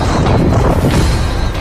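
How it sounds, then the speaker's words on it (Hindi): Explosion at a Merkava tank, a loud, sustained low-frequency roar and rumble filling the short moment, close and heavy with no voices over it. "बड़ा धमाका।"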